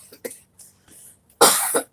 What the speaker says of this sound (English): I'm still coughing, still dealing with this yuck stuff in my lungs